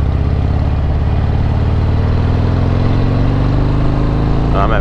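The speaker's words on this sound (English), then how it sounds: "I'm absolutely destroying the nice peaceful ambience with my loud as hell exhaust." A loud Harley-Davidson XL883L Superlow motorcycle engine drones steadily throughout, its exhaust note rising gradually in pitch as it climbs a very steep road, close and continuous.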